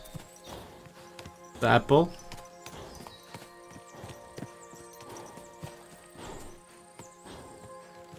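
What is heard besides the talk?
horse hooves clip-clopping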